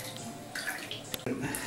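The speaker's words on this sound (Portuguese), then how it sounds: "Coloca mais um pouquinho de água fria aqui" Cold water is added to a baby's first bath, a quiet splashing and trickling into the tub that shifts in bursts, with soft sounds of people nearby.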